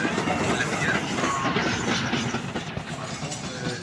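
Steam locomotive rolling past at the Wolsztyn steam locomotive parade, with steady rail clatter and wheel rumble close by, fading slightly toward the end amid crowd noise.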